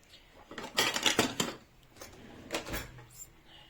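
A spoon stirs homemade soup in a pot, giving a few quiet metallic scrapes and clinks in two short clusters against a hushed kitchen background, with no talking.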